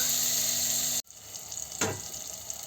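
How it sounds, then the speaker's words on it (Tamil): Large chopped tomatoes sauté in oil in a village-style kadai for a country chicken curry. A soft, continuous sizzle is heard up close after a brief cut, with a faint stirring scrape partway through. "தக்காளி பெரிய சைஸ் தக்காளி எடுத்து கட் பண்ணி இந்த மாதிரி நல்லா வதங்கட்டும்."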